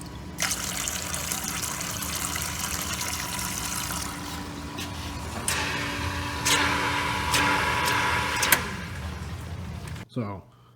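A band saw's coolant pump on a Jet 7x12 horizontal band saw sends coolant out of a hose into a bucket, a steady loud splashing gush that runs for about ten seconds, swells midway, then cuts off abruptly.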